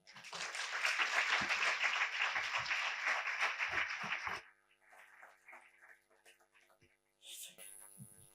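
Audience applause welcoming a speaker to an art lecture on Benjamín Palencia, a dense round of clapping from a seated crowd that holds steady for about four seconds, then quickly dies away into room murmur.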